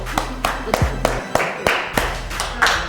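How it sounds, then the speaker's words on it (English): A group claps in a slow, steady rhythm, about nine distinct hand claps ringing out over faint background tones in a cooking competition setting. "Let's clap it up for Miss Bush"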